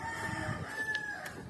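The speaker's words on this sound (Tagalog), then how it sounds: "Pakita ko sa inyo yung mga manok namin dito guys." Chickens on a farm in Batangas, with a rooster crowing and hens clucking; the calls are faint and somewhat distant over a soft outdoor background, with no talking.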